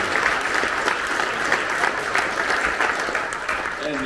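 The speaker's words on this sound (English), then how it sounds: "let the Lord know it by a big hand of applause" A church congregation applauds during a Sunday sermon service, approving a deacon to baptize two people; sustained crowd clapping fills the room at moderate level for several seconds, with a faint voice near the end.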